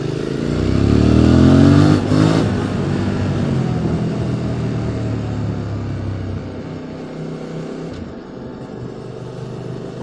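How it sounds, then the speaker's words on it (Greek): A QJ SVT 650X motorcycle engine rumbles loud and close while riding, revving up briefly near the start then settling into a steady cruising drone with slight clatter. "Τόσο αργό είναι το μηχανάκι μου."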